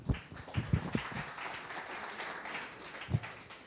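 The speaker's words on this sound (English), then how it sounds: "So a big thank you, round of applause for our designers in the house." Faint, thin applause from a tech meetup panel audience, a few scattered claps with some louder isolated hand strikes, heard distant and quiet.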